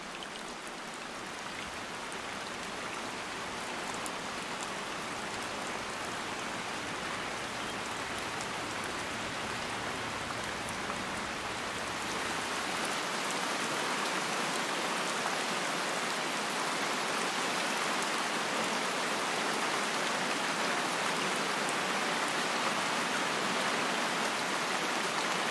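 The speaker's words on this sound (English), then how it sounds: "Then finally, the first drops of rain start to fall." Steady rain falls in a German forest, a dense even hiss of drops on leaves and ground that grows slightly heavier halfway through, with no voices.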